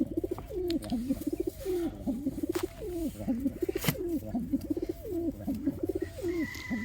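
A pet pigeon coos repeatedly at close range, soft throaty rolling calls coming in a steady rhythm with a few faint clicks around them.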